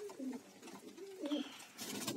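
Pigeons in a dovecote at morning feeding coo softly nearby, with two or three throaty rolling coos against a quiet background and a faint rustle near the end.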